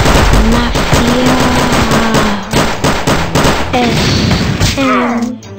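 Submachine gun in the video game Gun Mayhem, rapid bursts of automatic fire crackling close and loud in quick repeated volleys across the whole stretch.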